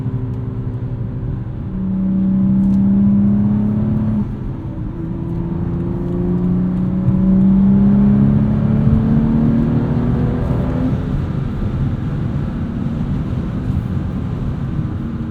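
A modified 2016 BMW 435i with a six-speed manual and twin-turbo inline-six accelerates in the cabin, a steady loud drone rising in pitch through repeated pulls, with a shift-like dip before the engine climbs again.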